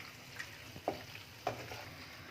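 Chicken masala macaroni being stirred in a hot pan, with a soft steady sizzle broken by a few sharp scrapes of the spoon against the pan.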